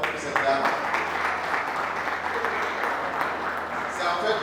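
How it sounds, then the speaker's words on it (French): An audience applauds and cheers for a woman at a prize-giving ceremony at a youth book and comics fair in Yaoundé, a dense steady wash of clapping with some voices mixed in. "Je voudrais une fois de plus que vous puissiez acclamer très fort pour cette dame."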